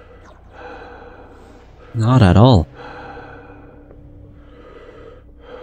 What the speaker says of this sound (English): I can still hear the really loud breathing